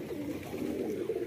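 A newly bought Patiyala pigeon gives a short, close, low throaty coo lasting about a second.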